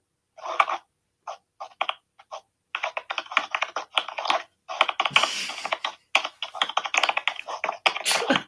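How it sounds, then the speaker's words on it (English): Rapid keystrokes clatter on a computer keyboard in uneven bursts, close and fairly loud, with short pauses between runs of typing. "I can hear you, like, typing."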